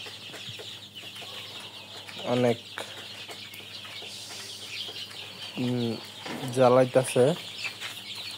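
Sixteen-day-old chickens on a small poultry farm cluck and call in short bursts, several sharper squawks standing out near the end, while someone talks over them.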